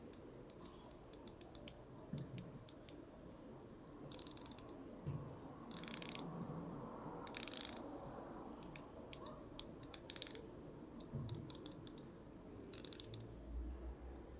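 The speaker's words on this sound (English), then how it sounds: "The bezel click sounds are crisp and satisfying, with absolutely no backplay at all" Crisp mechanical ratchet clicks from a Seiko Atlas SKZ211 watch bezel turning, in short bursts of rapid ticks with brief pauses between, close and fairly quiet.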